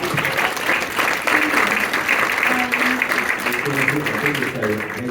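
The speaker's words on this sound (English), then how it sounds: "Can we get a round of applause?" Audience applause at an entrepreneurship panel event after a charity fundraising milestone, steady dense clapping filling the whole stretch with some voices murmuring underneath.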